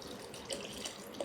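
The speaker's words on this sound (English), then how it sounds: "And I'm just going to pour" Limoncello pours steadily from a bottle in a home kitchen while cooking jerk shrimp, a soft continuous liquid trickle with faint splashes, heard alone at low level.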